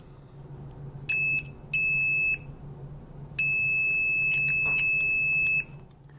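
A Greenlee DM-860A multimeter in continuity mode beeps sharply as probes touch, giving two short beeps and then a longer sustained tone, loud and close over a quiet background hum.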